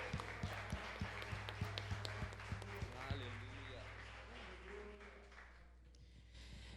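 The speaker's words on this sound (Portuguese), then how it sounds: "Aplauda o Rei das nações" Steady rhythmic clapping in time at an evangelical church worship service, about three claps a second over a low electrical hum, with a voice heard alongside before the claps fade out.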